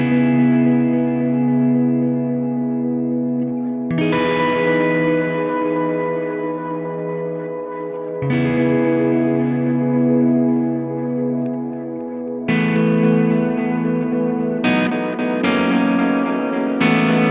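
Guitar run through a Fractal FM9 using Matterhorn and Camera Obscura multi-tap delays, sustained chords blooming into lush, repeating echoes and ambient pad-like washes, with new chords entering every few seconds and denser strums near the end.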